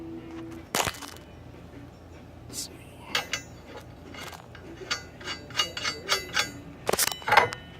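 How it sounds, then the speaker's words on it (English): Metal clinks and clangs as a phone is set down and a nut is threaded onto a bolt while installing an Adams4x4 bumper, a few sharp taps early then a run of small quick clicks near the end. "I'm going to set the phone down and I'm going to put the nut on there."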